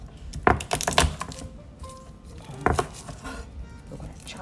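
A kitchen knife chops garlic and parsley with stems on a cutting board in a home kitchen: a quick burst of sharp, close knife strikes, then a pause, then another short burst, with faint kitchen rustling between.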